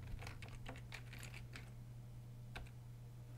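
Keystrokes on a computer keyboard, a quick burst of several close taps followed by a pause and one final key press, heard alone over a steady low hum.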